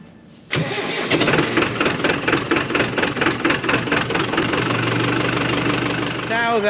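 A tractor engine cranks and catches, then settles into a loud, steady, knocking idle close by, with no talk over it.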